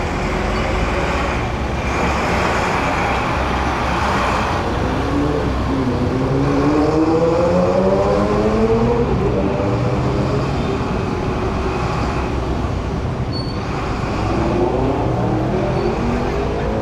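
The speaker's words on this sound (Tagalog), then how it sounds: "Bakit kaya mahaba ang traffic dito?" Steady road traffic rumbles at a congested, bottlenecked intersection, a constant loud roar of engines with a rising whine from a passing vehicle in the middle, and faint talk underneath.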